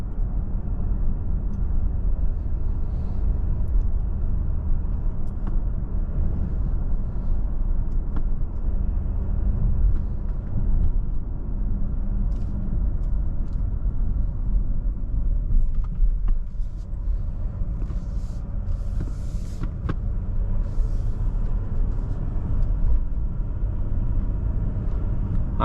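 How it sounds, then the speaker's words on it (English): A 2023 Mercedes-Benz GLC 300 4MATIC Coupe with a turbocharged four-cylinder engine, driving on the road, gives a steady low rumble of engine and road noise that carries on without a break and stays fairly loud. "personally, I'm just not a fan of how turbocharged 4-cylinders sound in general"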